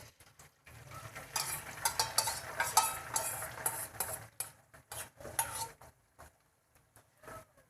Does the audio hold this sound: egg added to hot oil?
yes